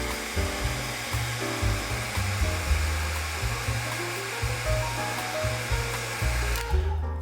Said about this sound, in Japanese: この部分もドライヤーで乾かします